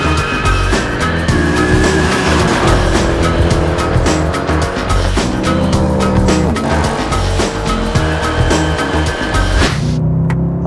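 The V8 engine of a Mercedes E63 AMG saloon revs loudly and continuously, its pitch climbing and dropping repeatedly, before cutting off abruptly near the end.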